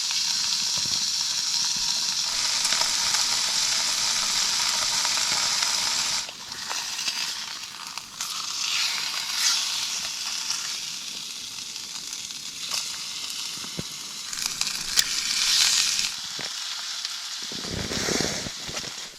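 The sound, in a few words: steak sizzling in a frying pan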